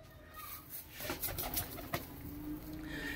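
Punjabi pigeons coo softly in low, rolling calls over a steady background hum, with a few faint flutters nearby.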